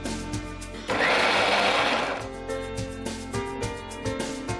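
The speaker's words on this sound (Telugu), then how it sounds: "సో జస్ట్ ఒక 2 సెకండ్స్ మనం గ్రైండ్ చేసుకున్నాము." A mixer grinder whirs loudly for about a second and a half while grinding soya, a dense high-pitched motor buzz that cuts off abruptly, with quieter kitchen background before and after.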